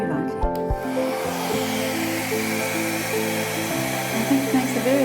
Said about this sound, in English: now I'm just going to, with the hairdryer, I see a little bubble there. I'm going to just blow it a little bit